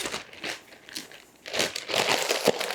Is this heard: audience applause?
no